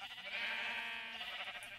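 A single sheep bleats clearly on a sheep farm in a block-building video game, one wavering, drawn-out baa that is close and fairly quiet.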